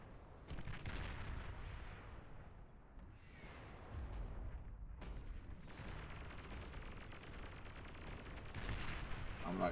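Dense, continuous battle fire from rockets and turrets in the strategy game Beyond All Reason, with rumbling booms and rapid cracking shots layered into a constant roar that swells slightly toward the end.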